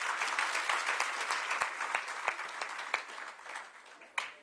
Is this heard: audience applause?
yes